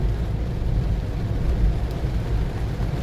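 Heavy morning rain falling in a steady low rumble, a dense continuous hiss and patter with deep booming undertones, moderately quiet and unbroken throughout.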